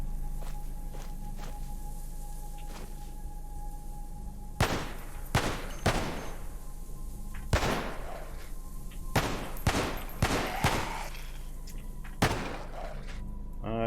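Gunshots in the video game Cataclysm DDA, a series of sharp separate reports, some in quick pairs and clusters, over a steady game hum with no talking.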